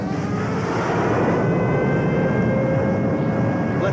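Military planes fly overhead in a film scene, a loud, steady jet-engine roar that fills the whole stretch without any voices.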